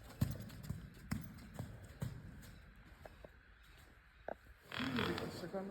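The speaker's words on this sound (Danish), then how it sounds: "Ja, du er flot hest." A horse moves with irregular hoof clops and snorting breaths close by, then a louder burst of rustling, while a person speaks softly nearby.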